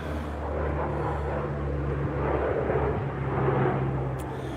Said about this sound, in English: Big ass fucking airplane just went over me.